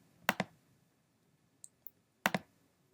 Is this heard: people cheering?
no